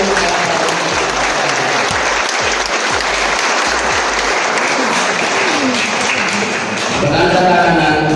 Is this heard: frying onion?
no